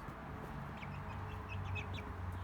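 Young chickens cluck and peep softly in a small group, scattered short high calls over a low steady background hum, fairly faint and without talk.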